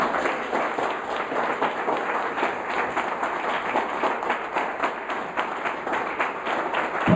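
A church congregation applauds with dense, steady clapping that carries on for the whole stretch at an even, fairly loud level.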